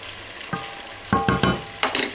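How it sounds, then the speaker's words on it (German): Chopped shallots and spring onions sautéing in a pan for beef roulades, a low sizzle punctuated by a run of sharp spatula scrapes and stirs, close up with no speech. "Dann habe ich mir noch zwei Schalotten klein geschnitten und die Lauchzwiebel tue ich da jetzt rein. Das röste ich jetzt noch ein bisschen an"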